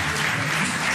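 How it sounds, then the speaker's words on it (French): Dense, loud crowd applause fills a public conference hall in one continuous wash of many hands clapping, with a faint voice underneath. "On peut les applaudir."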